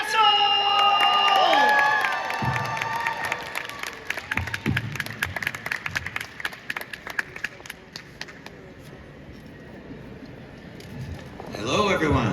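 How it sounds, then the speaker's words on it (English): An audience at a panel event breaks into applause for Nick Castle: dense, crackling clapping builds after a loud voice and tones, holds for several seconds, then thins out before voices rise again at the end. "Give a big round of applause for Mr. Nick Castle!"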